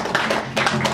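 Audience applause at a comedy gig in Edinburgh, a short burst of dense hand clapping swelling twice in quick succession as a volunteer is called on stage.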